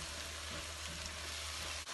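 Onion pieces frying in a pan with turmeric for a masala brinjal curry give a constant soft hiss and sizzle, close and even, with a faint low hum beneath.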